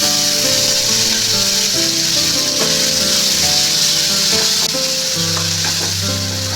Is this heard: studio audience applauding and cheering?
no